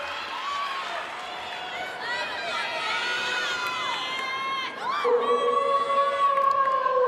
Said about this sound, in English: The crowd here getting very hyped up for her.